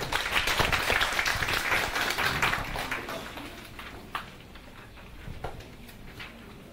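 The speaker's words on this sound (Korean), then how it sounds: "박수를 맞아주시죠" Audience applause at a Seoul lifelong-education conference session, a dense wash of clapping that starts loud and gradually thins out, with a few scattered claps lingering near the end.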